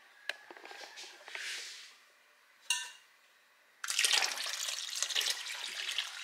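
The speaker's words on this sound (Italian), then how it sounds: "aggiungerei ancora un po' di acqua, sempre di pozzo, senza cloro" Chlorine-free well water poured into a vermiculite mixture during homemade black summer truffle spore inoculum preparation, with brief splashes and a trickle, then a loud sustained rushing pour near the end.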